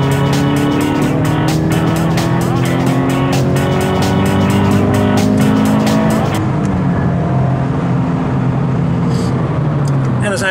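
A Toyota GT86 TRD accelerates hard, its engine revving loudly and close with rising pitch and squealing tires; after about six seconds the roar drops to a lower, rougher engine note.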